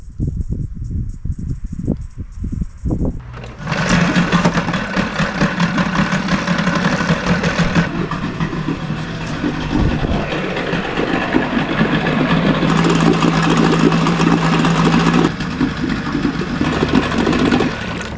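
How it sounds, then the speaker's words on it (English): An outboard motor runs steadily while fed through a comically long 20-foot fuel line; after a brief quiet start, the engine noise comes in loud and close and holds a constant drone to the end. "see if an outboard will run with a very comically large fuel line, roughly 20 feet to be exact"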